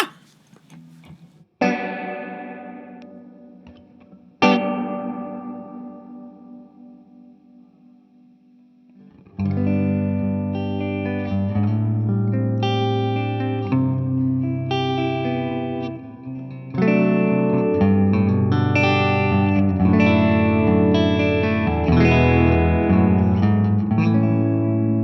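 Spring reverb unit on an instrument: plucked, echoing notes that swell into dense, washy sustained chords with a shimmering metallic tail, loud and alone without talk.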